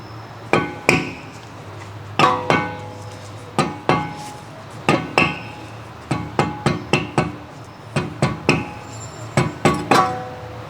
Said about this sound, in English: Using the rubber mallet, tap the brake rotor to remove it.